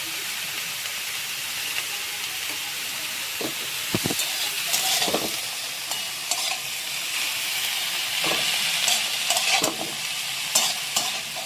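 Semolina dry-roasting in a pan, stirred steadily with a spoon that scrapes and taps against the metal over a constant gritty hiss, close and fairly loud with no voices.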